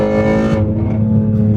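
A Ford Shelby GT350 engine roars at high rpm, close and loud, its steady harmonic drone holding through a short burst with no letup.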